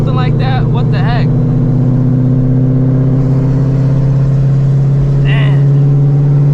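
A car on the road with tires that sound badly wrong, a loud steady engine-and-tire drone with a strong low hum throughout; someone talks over it early on and briefly near the end.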